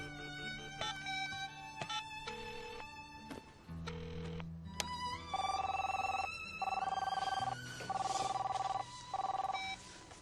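Telephone ringing in a home while a worried mother waits, a repeated electronic ring pattern heard in several long bursts alongside music and tones, fairly loud and clear.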